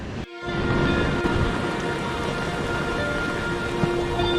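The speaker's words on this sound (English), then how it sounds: "A little bit of rain coming." Steady, dense rain falls at the beach, a loud, continuous hiss that sets in after a brief pause and carries on without letup.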